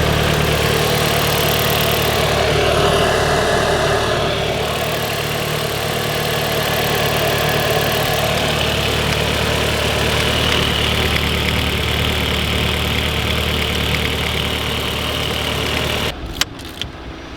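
A Mk4 VW Golf with a newly fitted front-mount intercooler idles steadily and close, a continuous even engine hum with a brief clatter of handling noise near the end.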